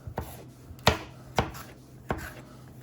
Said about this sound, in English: So that's how I like to cut the pepper.